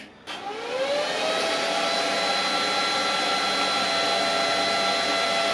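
A Paton 250 Pro MIG welder powers up and its cooling fan spins up with a rising whine, then settles into a steady, fairly loud airy hum with a high tonal note.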